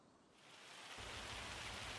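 Rain falls in the video game Farming Simulator 25, a soft broadband hiss that swells gradually over two seconds into a steady, fuller downpour with a low rumble underneath, no voices present.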